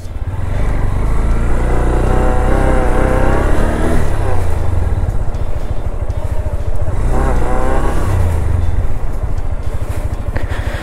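Close and loud, a motorbike engine revs repeatedly as it labours up a sandy slope on Aare Ware beach near Malvan, pitch rising and falling in two strained surges.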